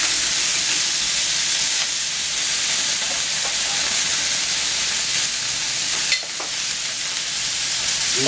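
Mussels searing on a plancha griddle turned to maximum and sprayed with oil, giving a loud, continuous crackling sizzle with a short clatter near the end and no voices.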